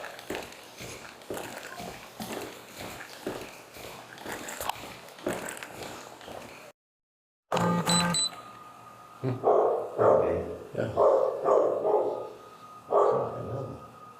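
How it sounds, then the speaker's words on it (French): A dog whimpers and barks, with short repeated yelps and bursts. They come louder and closer after a brief silence, with a second dog present. "Il est avec un autre chien."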